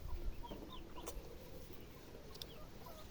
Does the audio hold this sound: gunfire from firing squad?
no